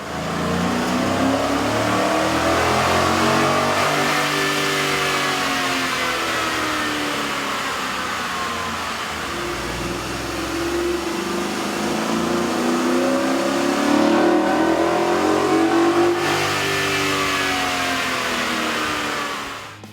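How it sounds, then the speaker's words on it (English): A Ford F150 5.0L V8 with an aftermarket air intake revving on a dyno, loud continuous engine roar rising and falling in repeated sweeps of pitch over twenty seconds, no talking. "we ran the vehicle on the dyno to test the sound comparison versus the stock intake"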